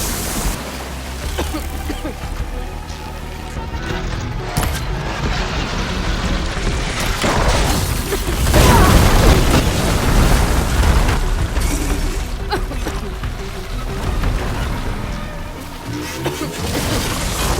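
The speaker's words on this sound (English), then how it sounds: "Hopefully they can also fire a few shots from that ballista." Ballista shots and explosions in Horizon Forbidden West, a loud, chaotic battle soundscape of booming blasts and bursts over rushing noise, peaking in a heavy explosion midway, with voices shouting intermittently.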